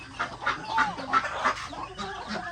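Chickens on a breeding farm give a series of soft, rhythmic clucks over low background noise, coming from several birds close by with no talking.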